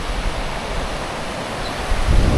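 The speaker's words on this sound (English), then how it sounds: "A little bit thrashy in the surf out there" Choppy surf washes onto a freshwater lake beach on Ometepe island, Nicaragua, a steady broadband roar with wind, swelling louder near the end; no talking.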